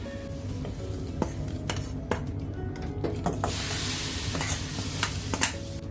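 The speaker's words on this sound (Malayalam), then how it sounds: "ഇനി നമുക്ക് അത് ഈ കുക്കറിലോട്ട് ഒഴിച്ചു കൊടുക്കാം" Sambar mixture with okra being poured into a pressure cooker, a steady wet splashing and sizzling wash that swells midway, with light metallic clinks of utensils, close and alone without talk.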